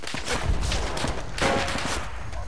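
Call of Duty World at War multiplayer gunfire, a rapid burst of close shots followed by a second volley, sharp cracks clustered over a couple of seconds with no talking.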